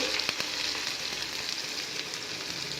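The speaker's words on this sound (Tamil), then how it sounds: "எண்ணெய் சட்டியை போட்டு எண்ணெய் ஊற்றி கடுகு போட்டு வெங்காயம் பூண்டு" Mustard seeds, onion and garlic fry in oil in a pan, a continuous close sizzle with faint crackles and light stirring and no talking.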